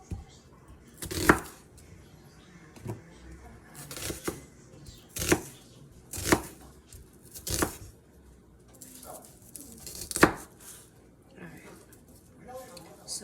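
An onion being chopped into small pieces with a knife in a home kitchen, for chicken soup topping, with sharp knife strikes at irregular intervals on a board and soft handling noises in between.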